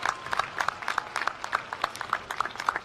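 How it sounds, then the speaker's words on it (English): Sustained applause from a commencement crowd honoring graduating students, a dense wash of many hands clapping at an even level throughout, close and unbroken with no speech. "Give our students a great resounding round of applause."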